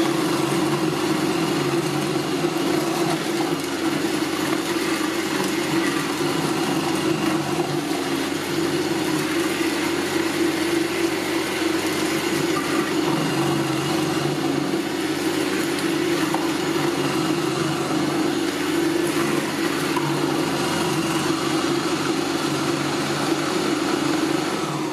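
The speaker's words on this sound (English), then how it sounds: "Next, I'll turn the disc around to shred the cabbage." An Oster Versa blender running on its medium setting, its shredding disc feeding cabbage down the chute, gives a steady loud motor whine that holds without a break for the whole stretch.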